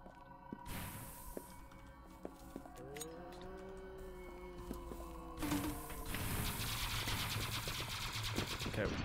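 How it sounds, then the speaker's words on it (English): Gunfire in the online shooter game UpGun, with rapid bursts of automatic weapon fire and sharp shots, growing louder and denser toward the end, layered over game effects and background sounds. "Dude, he's shooting me through walls."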